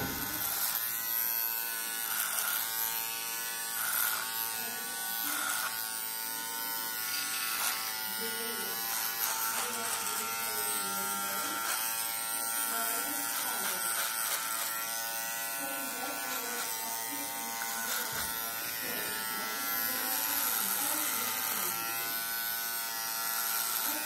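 An electric hair clipper fitted with a wide number-3 guard comb, cutting hair in a barbering lesson, buzzing steadily and close up throughout with small pitch shifts as it moves across the head.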